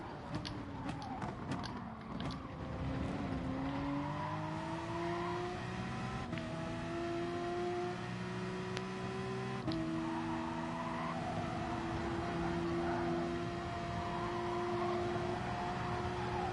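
A Peugeot RCZ race car in Gran Turismo Sport races with a steady, droning engine note that climbs through the gears, with clear upshifts every few seconds and a few sharp clicks early on, loud and continuous with no talking.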